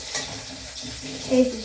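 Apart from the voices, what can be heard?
potatoes frying in a pan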